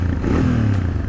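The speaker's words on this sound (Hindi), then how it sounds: "और अगर मैं इसको रेव करूँ ना तो ये सुनिए" A 2022 Royal Enfield Interceptor 650 BS6 motorcycle engine revs up loud and close, with a deep bassy throb that rises and falls in one short burst.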